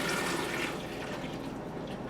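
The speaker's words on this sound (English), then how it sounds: "We'll also be adding half a gallon of distilled water up here." Half a gallon of distilled water pours steadily into the upper reservoir of a PicoBrew home brewing machine, a close, continuous splashing rush that fades slightly toward the end.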